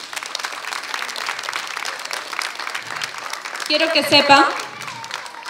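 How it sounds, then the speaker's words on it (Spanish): Applause from the audience at the inauguration of the Andrés Bello school library, steady clapping through the clip that swells near the end, with someone talking over it. "les pido un aplauso"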